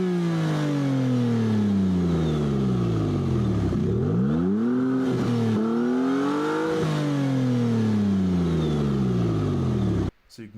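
Maserati MC20 twin-turbo V6 Nettuno engine revving up and down in close, loud blips, pitch climbing and falling several times before cutting off abruptly.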